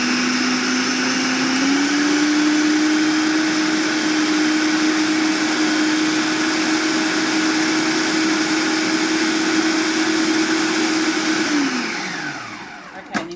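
A blender motor whirs steadily and loudly for about eleven seconds blending cooked cauliflower, its pitch rising slightly early on, then winds down and stops near the end.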